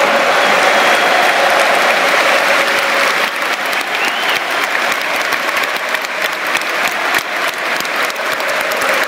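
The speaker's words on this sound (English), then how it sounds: "I believe we're applauding, the Hibs fans are still singing." Football crowd at a Scottish Cup final, loud sustained applause from a large stadium crowd with dense clapping throughout, fans still singing underneath.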